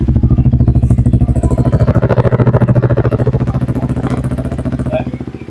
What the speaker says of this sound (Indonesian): Kita dengarkan suara knalpot ya, suara knalpot DSC ya ini ya.